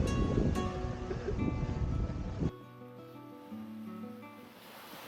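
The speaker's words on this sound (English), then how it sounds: "There's a lot more wind than expected, so we have a nice sailing day after all." Strong wind roars over the microphone while a sailboat cruises in Vanuatu, loud and gusty for a few seconds before easing to a softer rush.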